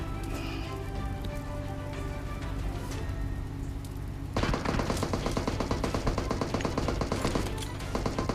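Rapid automatic gunfire from the PUBG Mobile battle royale game on a phone, starting abruptly midway and continuing as dense, loud bursts of shots over a steady background of game ambience and rain-like patter.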